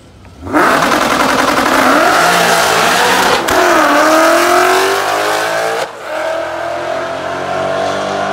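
A drag-race car launches hard off the line on a short track. The engine revs loud and close and rises in pitch through the gears, with tire squeal and one sharp shift break partway through.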